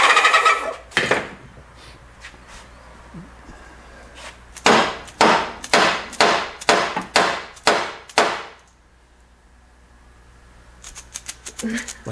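A dead blow hammer strikes repeatedly, a quick series of about eight dull, heavy thuds in a steady rhythm, close by, with scattered lighter knocks before and after.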